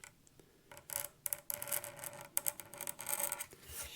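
A blade scraping clear coat finish off the binding of a thinline bass guitar body, giving short close rasping strokes in quick uneven bursts.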